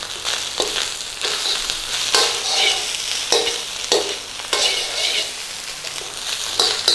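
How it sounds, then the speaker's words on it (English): Pineapple shrimp fried rice with curry powder being stirred in a hot pan: steady close sizzling with repeated scraping strokes of the utensil at a brisk, uneven rhythm, no voices. "Give that a quick stir in"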